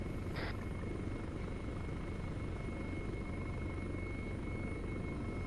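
Helicopter in a military video game, a steady, continuous rotor and engine drone holding an even level throughout, with a brief higher-pitched blip near the start.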